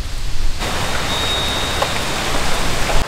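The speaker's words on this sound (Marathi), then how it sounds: "पाऊस काय थांबायचं नाव घेत नाहीये." Heavy rain hisses in a constant, dense roar, close and loud, with no talking.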